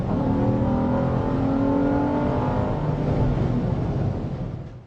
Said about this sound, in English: when you get on the gas, it actually gets fairly loud.